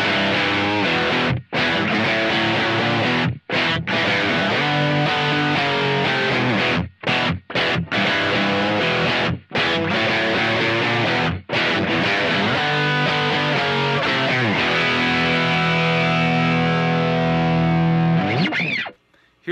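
Distorted electric guitar run through a Kemper and a Fender Bassman amp with the preamp pedal bypassed, playing loud, dense riffs with a few short stops before ringing out at the end.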